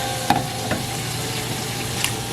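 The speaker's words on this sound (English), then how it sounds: "our butter is sizzling, so in go our onions" Onions sizzle steadily in hot butter, with a few light scrapes and taps of a utensil stirring the pan.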